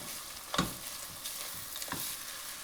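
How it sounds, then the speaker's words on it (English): Three finely minced red onions sauté in a pan, giving a soft, fairly faint continuous sizzle with a couple of brief stirring scrapes; no one speaks. "So into this goes 3 red onions finely minced, and we're just going to saute them"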